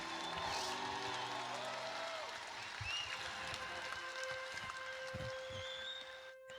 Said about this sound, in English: Let's give them all one collective round of applause.